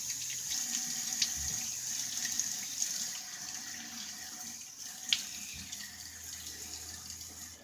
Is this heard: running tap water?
yes